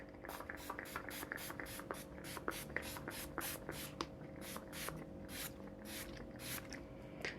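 Rapid, regular pumps of a fine face mist spray, many quick soft hisses in a steady rhythm over a faint background hum.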